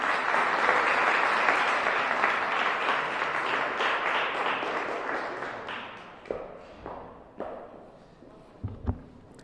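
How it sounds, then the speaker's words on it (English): Audience applause at a DC Council Black History Month celebration with the Mayor, a full round of clapping that holds steady, then thins into scattered claps and fades out. "Let's give her one more round of applause."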